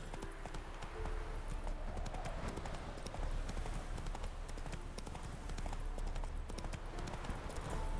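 Horse hooves clip-clop at a steady riding pace in The Witcher 3, a continuous rhythmic patter over low game ambience.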